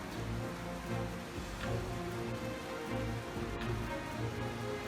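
A severe hailstorm striking during a trade fair in Guangdong, China, a dense steady patter of pelting on surfaces with scattered sharper hits, loud and continuous without talk.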